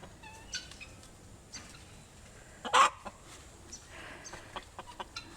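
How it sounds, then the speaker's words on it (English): Silver Sussex chickens cluck in short bursts at close range, with one louder squawk partway through, over a quiet outdoor backdrop in a tropical vegetable garden. "So this is one of our silver Sussex chickens."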